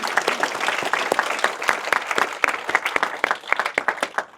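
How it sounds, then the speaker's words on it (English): An audience at a Christchurch seminar on Budget 2025 gives a round of applause, dense, close and sustained for several seconds. "please a round of applause for Craig."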